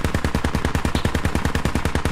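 Fast, sustained automatic gunfire in the military shooter game Squad: a loud, close burst of about two dozen evenly spaced shots, with no voices.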